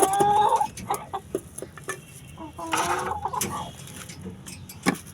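Chickens being fed on a winter morning in a garden cluck busily up close, with a brief squawk at the start and scattered pecking noises as people talk nearby.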